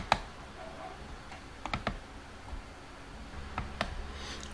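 A few sparse keyboard clicks come in small clusters, short and fairly close, with quiet gaps between them over low room noise.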